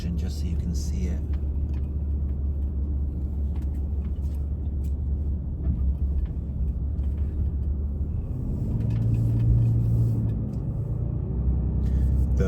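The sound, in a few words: car driving on campground roads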